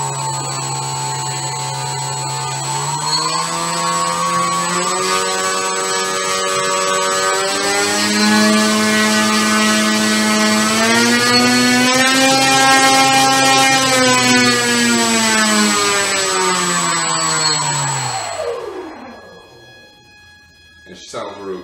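Electric E-Flite Power 25 motor, upgraded from stock, on an E-Flite Apprentice S 15e RC airplane, whining loudly and steadily as it revs up and holds high pitch, then spooling down to a stop near the end.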